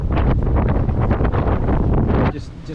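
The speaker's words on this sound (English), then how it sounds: "It's pretty windy" Strong wind blasting across the microphone on a small sailing boat at sea in the Channel near Cherbourg, a loud roaring rumble that drops off abruptly near the end.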